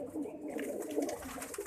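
Cheena breed pigeons, a large male beside a female, coo softly and low in a steady murmur that runs throughout, close by with faint background sounds.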